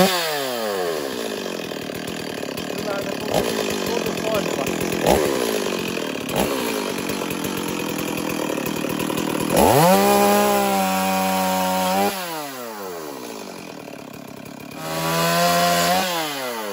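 A Stihl chainsaw salvaged from a dump runs loud and close, whining steadily while cutting wood, then revving up and down in several rising and falling sweeps near the end.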